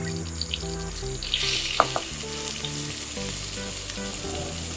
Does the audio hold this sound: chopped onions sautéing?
yes